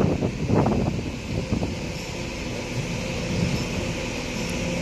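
Strong wind gusting across an open bus terminal, a steady broad rush with buffeting against the microphone, while a bus engine rumbles low underneath and a brief clatter sounds near the start.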